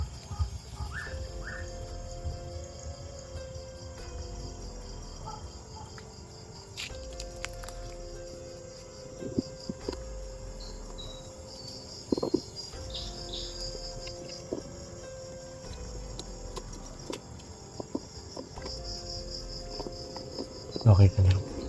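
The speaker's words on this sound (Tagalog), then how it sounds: "Yung ibon na yan. Narinig ko palagi sa mga video namin." Night ambience in the Philippines: a continuous chorus of crickets and insects with a bird calling intermittently in the distance, plus occasional faint knocks and rustles.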